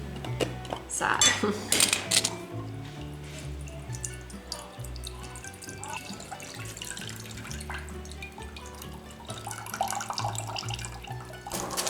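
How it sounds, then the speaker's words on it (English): Liquid draining from opened cans of salmon into a container in a home kitchen, heard as dripping and pouring mixed with metallic clinks of cans and dishes, close and steady throughout. "So I'll just open the cans. We'll drain them."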